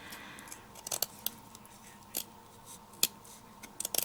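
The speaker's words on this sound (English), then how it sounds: "So what I'm going to do is still trim this down a little better. I can even switch out scissors" Scissors snipping felt backing around a cross stitch piece set in an embroidery hoop, with several quiet, scattered cuts and one sharper snip, close by with no talking.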